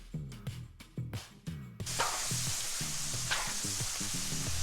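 Mushrooms, onions and garlic drop into a hot pan over pork chop drippings, bursting into loud, steady sizzling with scraping stirs, after a few quieter clinks and short sounds at the start.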